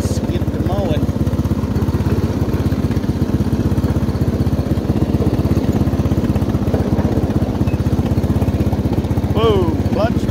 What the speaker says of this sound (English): So let's get to mowing.